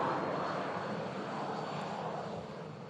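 An EasyJet Airbus A320neo on final approach into Manchester Airport in stormy weather, its jet engines producing a steady, loud, broadband roar that fades slightly toward the end, with no voices.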